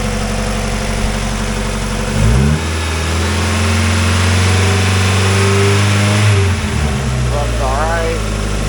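A 2001 Mazda Miata NB engine, pulled for parts at a wrecking yard, runs close by, idling with a low steady drone and rising into brief revs around two moments, while someone talks over it.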